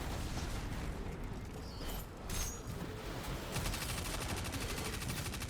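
Sustained sniper and rifle fire in Destiny 2, a dense continuous barrage of gunshots at steady loudness with a brief dip midway, no talking over it.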